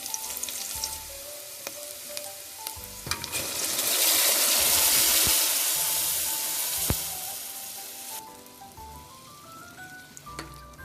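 Boiled moong dal hits fried onions in a hot pan for a Telugu-style dal curry, and a loud, close sizzle swells through the middle before easing off. Light utensil clinks and stirring come through, with no voices.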